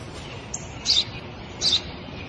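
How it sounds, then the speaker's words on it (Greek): Two short, high chirps from a sparrow, spaced under a second apart, over a faint steady background hiss. "Ένα σπουργίτη."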